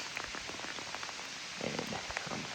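Steady rain pattering on surfaces in the Kansas countryside during a cold, wet morning bowhunt, a dense, even hiss of drops with scattered louder taps, fairly faint and continuous with no talking.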